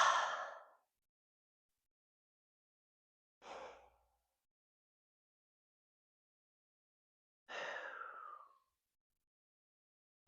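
Deep, slow breaths during a yoga stretch, three long airy exhales spaced a few seconds apart with near silence between, close and soft.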